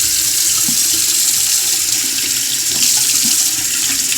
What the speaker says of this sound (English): turn on the hot water first